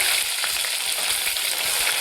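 Small onions dropped into hot oil with popped mustard seeds, for a crab curry, sizzle in a steady, dense crackle that fills the clip, with faint stirring and no talking.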